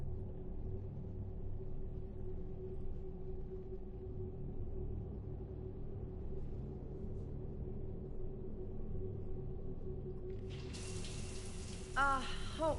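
Steady running shower water from Mass Effect 3, a continuous broadband hiss and low rumble, with a brief higher chiming sound near the end.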